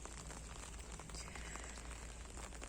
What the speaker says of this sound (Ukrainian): дощ, дощ є.